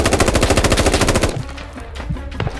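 Rapid, sustained machine gun bursts for suppressive fire in the military shooter game Squad, a loud fast rhythmic stream for over a second that then cuts to quieter scattered battlefield noise and distant shots.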